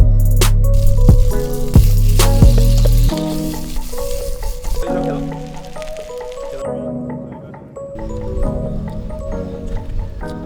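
Vegetarian aglio olio cooking in a pan over an outdoor wood fire at a kayak campsite, with loud sizzling and stirring at first that settles into a quieter frying hiss with scattered clatter.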